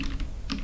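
Someone types a short prompt code on a computer keyboard. It comes as a brief pair of soft, close keystrokes over a low background hum.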